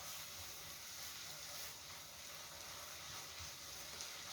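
Rice with shrimp sizzles steadily as it is stir-fried with oyster-sauce seasoning over high heat, a constant soft hiss with faint scraping, quiet and continuous with no talking.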